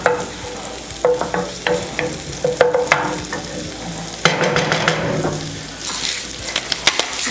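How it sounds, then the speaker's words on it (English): Ingredients for a seafood lasagna sauce sautéing in a hot pan, a continuous sizzle broken by repeated scraping stirs and clanks of the utensil, close and loud with no talking. "we're just going to saute this very quickly"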